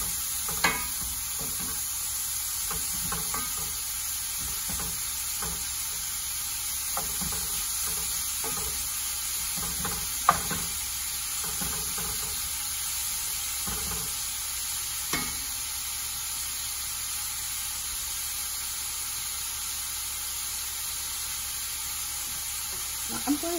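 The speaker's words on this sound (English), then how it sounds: "So give it a quick stir." Food sizzling in a frying pan over a long stretch, a constant bright hiss with intermittent spatula taps and scrapes as it is stirred, one sharper knock midway.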